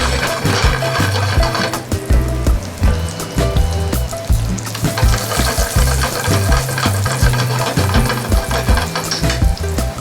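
Chicken sautéing in sauce over a high flame, a loud, dense, continuous sizzle and crackle with stirring scrapes, close up and steady throughout with no talking.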